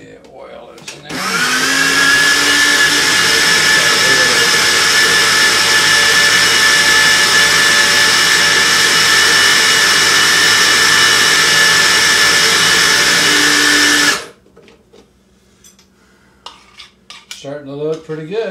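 A food processor whirs steadily for about thirteen seconds while blending hummus as oil is added, a loud sustained motor drone with a grinding edge that starts and stops abruptly, followed by quieter clinks and a brief voice.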